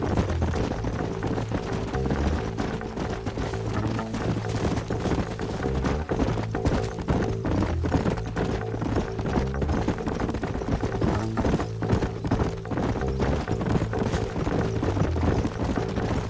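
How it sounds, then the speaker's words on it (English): Horses gallop in the Red Dead Redemption video game, a steady drumming of hoofbeats running throughout under a layer of game music and ambience, with no clear talk. "Let's hold up a minute and find a spot for our horses."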